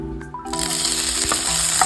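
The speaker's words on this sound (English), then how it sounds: "Heat a pan and toss in your bay leaves, cinnamon and cloves." Bay leaves, cinnamon and cloves crackle and sizzle loudly in a hot pan, a dense steady frying hiss close up with small pops, no voices.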